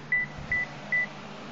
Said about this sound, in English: That's my phone letting me know that the battery's almost dead.